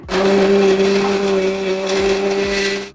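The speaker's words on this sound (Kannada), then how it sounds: "ಈಗ ಇತ್ನೊಮ್ಮೆ ಎಲ್ಲ ಕೂಡಿ ಮಿಕ್ಸರ್ ಮಾಡ್ಕೊಳ್ಳೋಣ ಸಣ್ಣಂಗೆ" A mixer grinder blends flattened rice with powdered jaggery and cardamom, a loud steady motor whine with a grinding, rattling churn that runs continuously and close up for the whole stretch.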